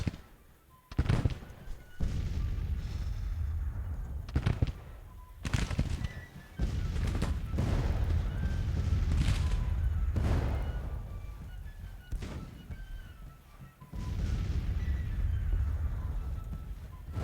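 Artillery fire on a Civil War battlefield in Grand Tactician: The Civil War, a series of heavy booms spaced a second or two apart, some overlapping into rolling rumble, at moderate distance with no talking.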